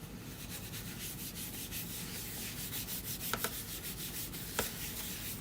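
Soft, steady hand sanding with a continuous gritty rub, quiet and close, with a few faint light taps near the end.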